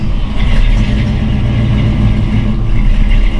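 An old pickup truck, with its neutral safety switch bypassed and a custom dash, runs after being started: a loud, close, steady engine drone holds throughout with no talk.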